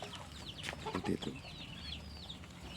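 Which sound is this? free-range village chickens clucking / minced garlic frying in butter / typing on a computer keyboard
free-range village chickens clucking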